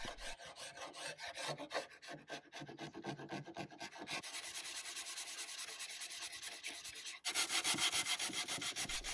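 Sandpaper scrapes an old wooden table in rapid back-and-forth strokes, close and rhythmic, with the rasping tone shifting between passes and growing harsher near the end.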